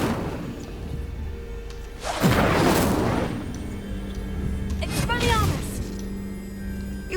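Incendio fire spell cast in the video game Hogwarts Legacy, a loud whooshing burst of flame followed by a second crackling flare, over steady background ambience.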